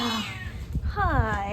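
A cat meows nearby in a drawn-out, rising-and-falling call, overlapping a person speaking softly to it.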